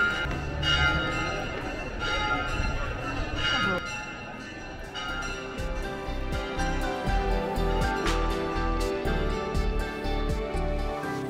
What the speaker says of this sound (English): I wish he'd stop dinging them bells.